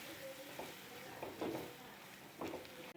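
Chicken masala mixture with coriander powder frying in a pan for biryani: a low steady sizzle broken by a few scraping spoon strokes against the pan, close and fairly quiet.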